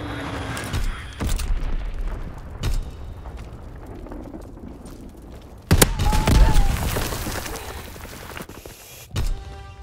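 Incendiary bombs from an enemy bomber explode in Call of Duty: WWII, with scattered sharp blasts and heavy booms, the loudest burst midway, amid rumbling battlefield noise.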